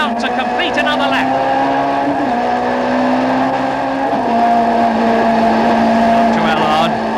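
Touring race cars in the 1989 British Touring Car Championship drone loudly past with steady, rising engine notes and gear changes, nearly continuous, under a commentator talking.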